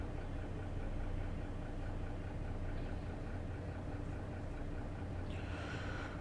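A bus engine idles in the driving simulator OMSI 2 on a Palma de Mallorca route, a steady low rumbling drone that holds unchanged and fairly quiet throughout, with no talk.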